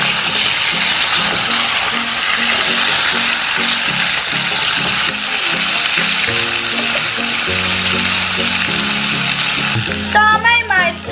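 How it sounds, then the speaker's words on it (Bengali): Fish fries in a pan with a loud, continuous crackling sizzle and a steady tonal hum in the background. "তো অন্য সাইডটা আমি এভাবে ভালো করে ফ্রাই করে নেব।"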